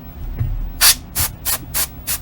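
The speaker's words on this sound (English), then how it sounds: "let's go ahead and spray this out" Compressed air sprayed into an opened Game Boy circuit board to clear dust, five short loud hissing bursts in an even rhythm after a brief quiet handling noise.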